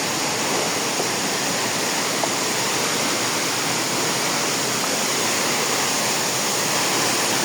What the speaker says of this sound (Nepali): यो के सोझो कुनाको झरना